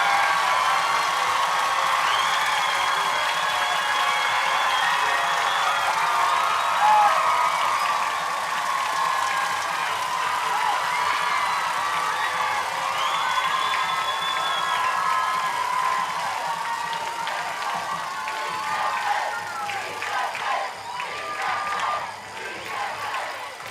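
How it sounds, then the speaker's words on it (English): A loud stadium crowd at a high school football state semifinal cheers and shouts after a touchdown. The roar is sustained and ebbs slightly toward the end. "the still very loud crowd makes lots of noise celebrating another score"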